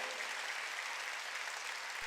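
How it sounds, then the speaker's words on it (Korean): Church congregation applause during a Sunday worship service, a soft, steady hiss of many hands clapping heard faintly at a distance, with a low hum underneath and no voices. "빨리 박수로 하나님께 영광 돌려"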